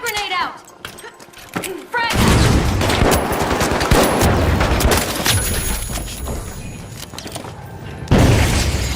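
A frag grenade blast followed by a dense barrage of gunfire in a shooter game, loud and continuous for several seconds, with a voice briefly at the start and a further sharp burst near the end.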